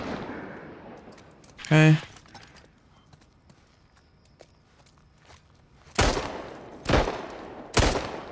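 Gunfire in The Last of Us: a few sharp shots burst out, one early and three spaced reports near the end, with a brief spoken word and quiet footsteps in between.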